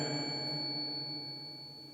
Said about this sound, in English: We're gonna do 1 bell for a yes and 2 bells for a no.